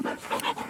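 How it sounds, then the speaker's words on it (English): An old dog panting heavily outdoors near sunset, a quick run of close, breathy rhythmic huffs. "some heavy breathing there, old boy."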